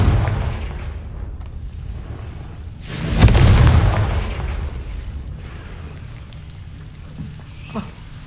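A single booming blast from the Confringo spell in Hogwarts Legacy bursts out mid-clip, loud and rumbling, then fades into quiet game ambience.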